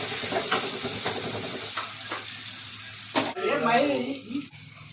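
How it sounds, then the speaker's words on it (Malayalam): Sausage pieces semi-frying in a pan for a sausage kappa biryani, a steady close sizzle with stirring scrapes, then a brief clatter and a short stretch of talk near the end. "ഇപ്പോൾ ഫ്രൈ ചെയ്യാൻ വേണ്ടി പോകും. ഒരു സെമി ഫ്രൈ."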